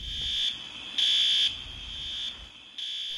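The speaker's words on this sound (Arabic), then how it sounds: "انطلق انذار الحريق في سيناريو الأزمة الوهمية" An electronic fire alarm sounds in repeated high-pitched beeps during an evacuation drill at Bahrain International Airport, short then longer pulses with gaps between, over a faint low background hum.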